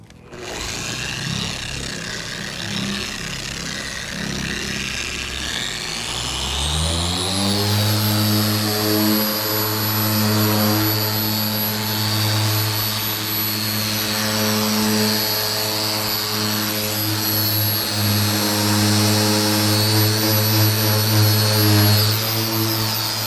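A Griot's Garage G9 random orbital polisher buffing a car hood spins up and holds a loud, steady motorized whine with a constant high tone over a low hum, close by.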